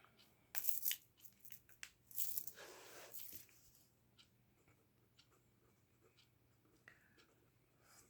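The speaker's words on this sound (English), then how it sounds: "Let me go ahead and write that in here." A white charcoal pencil scratches across paper in short, crisp strokes, a few louder bursts early on and then fainter, scattered scraping near and quiet.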